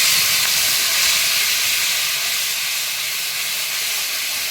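Spices sizzle in hot oil with a steady, bright hiss that stays fairly even and gently fades toward the end, no voices.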